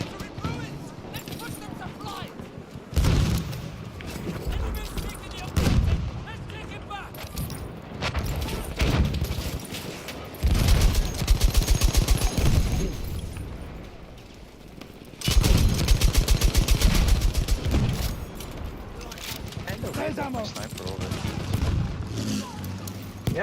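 LMG fire in a video game battle, with repeated bursts of rapid machine gun shots, some loud and close and others distant, between quieter stretches. Speech runs through much of it.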